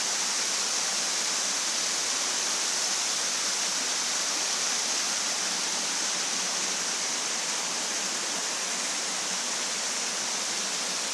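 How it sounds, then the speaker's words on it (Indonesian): Waterfall flowing steadily, a constant broad rushing roar filling the whole clip without pauses or voices, even and moderately loud. "air terjun"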